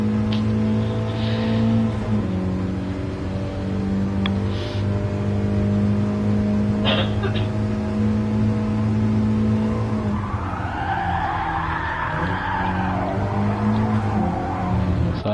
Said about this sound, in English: And just trying to keep that engine revs real high